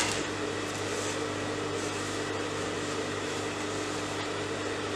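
A sewing machine motor runs steadily while stitching a belt onto salwar fabric, making a continuous, even mechanical whir with a low hum that holds without pause throughout.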